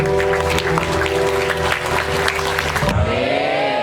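A crowd claps steadily for about three seconds before the clapping cuts off, leaving a low hum and a faint tone.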